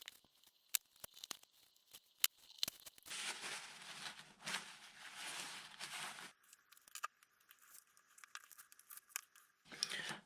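Foam caps for a Ritewing Mini Drak flying wing being roughly cut to length, a run of close crisp snips and tearing scrapes with bursts of longer rasping cuts, no talking.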